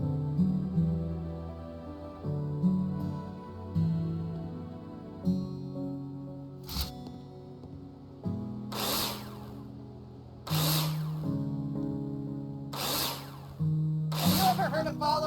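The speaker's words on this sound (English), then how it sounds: "Take your drill out and screw them in." A cordless power drill drives screws into plasterboard on a partition wall in the video game Builder Simulator, with repeated rising and falling whirs of the motor, each followed by a sharp click, loud and close.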